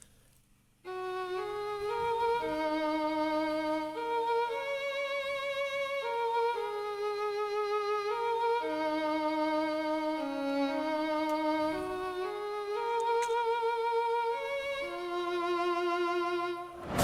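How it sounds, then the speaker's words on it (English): A Macabre Violin sample from a Kontakt library plays an eerie, bowed violin melody in sustained, sliding notes with a vibrato-like waver, running steadily and alone for about sixteen seconds. "the name of the library is called Macabre Violin"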